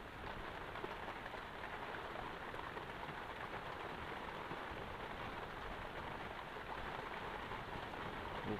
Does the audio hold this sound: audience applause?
no